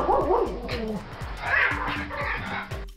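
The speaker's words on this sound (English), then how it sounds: "they have the bark to prove it" A small Pomeranian dog, a spitz breed, gives a run of quick, high-pitched yapping barks in a steady rhythm, close and fairly loud, with some whimpering tones mixed in.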